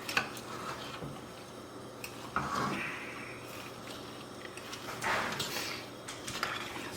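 Just over four pounds of sliced onions being stirred into a pot, a soft, continuous shuffling and scraping with a few louder bumps, moderately close and fairly quiet throughout.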